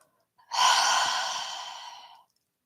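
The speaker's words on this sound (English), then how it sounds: "Exhale through the mouth" A single long exhale through the mouth during a relaxing yoga session, a close, breathy sigh lasting about two seconds and slowly fading, then silence.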